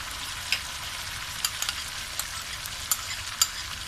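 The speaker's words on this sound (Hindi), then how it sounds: "अब हम गोश्त को दही के साथ भूनेंगे।" Mutton fries with yogurt in a pot, a steady moderate sizzle punctuated by several sharp spattering pops spaced irregularly throughout.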